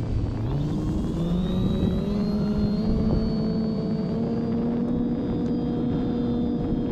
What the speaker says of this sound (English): But boy, what a great airplane.